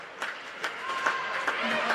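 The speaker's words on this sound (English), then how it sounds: "Melbourne fans cheer" Melbourne fans cheer and applaud in an arena during an Australian Women's Ice Hockey League semi-final against Adelaide. The crowd sounds fairly distant and the burst is brief, with soft claps rising through it.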